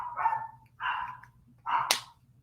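Indoor dogs let out three loud, closely spaced barks, each a short harsh burst, the final one ending in a sharp snap.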